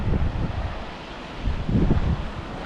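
Wind buffets a clifftop above the sea, low rumbling gusts that swell and ease across the microphone, close and fairly loud with no voices.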